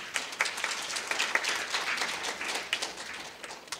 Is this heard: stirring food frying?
no